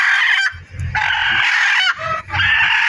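A newly hatched chick peeps loudly and shrilly nearby in three long, insistent bursts separated by short gaps, with soft rustling beneath.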